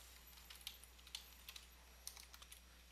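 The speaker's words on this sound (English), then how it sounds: "I'm going to get some text, and I'm going to type it over here" Typing on a computer keyboard, quiet and close, with irregular quick bursts of key clicks over a low steady hum.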